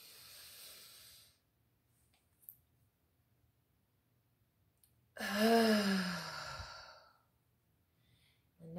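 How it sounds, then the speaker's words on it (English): Loud deliberate exhale during a belly-breathing exercise, a long breathy sigh with a voiced tone lasting about two seconds, preceded by a fainter breath and near-silence while the breath is held. "Expanding the belly, holding it at the top, and exhaling loudly."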